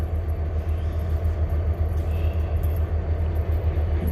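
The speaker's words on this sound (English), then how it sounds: "You can see there the trains down there" A train rolls along railroad tracks below a backyard porch on a cold morning, a steady low rumble that holds evenly throughout at moderate distance.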